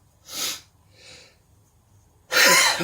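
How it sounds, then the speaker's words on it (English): A sneezing fit arrives as a sharp breathy burst, a softer second one, then a loud forceful sneeze at the end, each separated by silence. "we're going to have a sneezing fit again"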